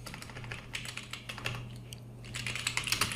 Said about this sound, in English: So I'm just going to type something like this, and then I'm going to hit send.